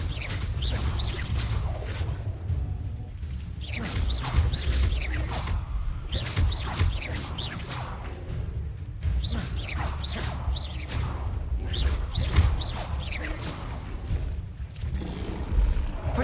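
Repeated Incendio fire spells cast in the Hogwarts Legacy game, a dense series of whooshing flame bursts and booming impacts that keep coming over a steady layer of game noise.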